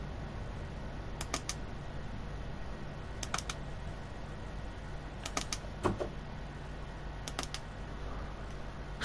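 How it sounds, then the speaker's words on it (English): Repeated clicking inside a train cab in Train Sim World 2, Southeastern Highspeed: paired sharp clicks recurring about every two seconds over a low steady rumble. "I don't want the clicking noise to get really annoying"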